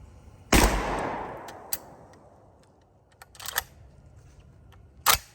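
A G Force GF25 magazine-fed 12 gauge shotgun fires one loud, close blast with a long decaying echo, followed by a couple of metallic clicks and handling sounds and a second sharp crack near the end.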